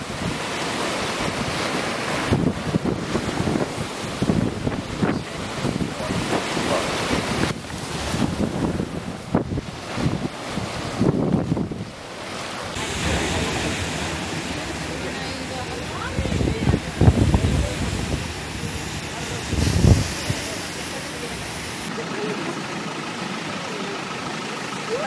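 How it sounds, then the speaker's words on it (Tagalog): Powerful ocean waves crash into a town in Spain, flooding the streets and reaching houses: loud, continuous roaring surf and rushing water with gusty wind buffeting the microphone, and voices audible over the turbulence. "tumama ang isang napakalakas na alon sa isang bayan"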